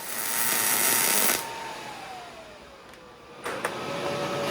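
A Miller Multimatic 220 AC/DC welder's arc hisses in a steady, soft crackle that drops sharply in level after about a second. It then carries on more quietly with a faint whine and a couple of brief pops.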